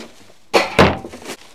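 Cans dropped into a campsite recycling bin at a Staffordshire farm, two dull metallic thunks close together with a brief rattle as they settle.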